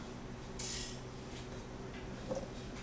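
Lid of an Egg Pod egg cooker set down on top, a brief bright clatter of plastic and metal followed by a small faint click, close up in a quiet room.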